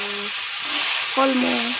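Water spinach frying in a pan with a steady hiss and sizzle, while a voice speaks briefly over it.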